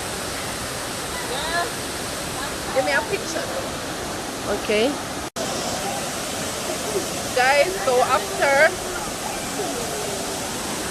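A waterfall in Panama pours out a constant broadband rush of water, loud and unbroken, while people talk over it intermittently.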